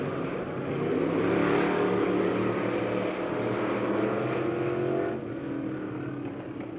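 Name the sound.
race cars driving on speedway track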